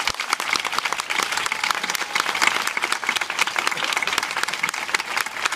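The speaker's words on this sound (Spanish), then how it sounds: "le pido oficialmente que este barrio le dé un fuerte aplauso a nuestro nuevo padre" A neighborhood crowd gives its new parish priest a long, steady round of applause, dense clapping that holds at an even level throughout with no voice heard over it.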